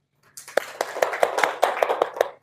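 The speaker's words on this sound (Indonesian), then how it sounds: "makasih, kasih tepuk tangan dulu." Classroom of students at a school guidance session gives a short round of applause: a quick burst of close, crisp claps in a loose rhythm, starting after a brief silence.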